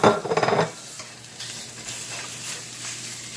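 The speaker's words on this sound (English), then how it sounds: "we're just going to add it to the skillet, and you're going to start browning that" Bulk seasoned sausage browns in a skillet for a breakfast burrito filling, with a short burst of scraping and stirring at the start, then a steady, fairly quiet sizzle with scattered light crackles and no talking.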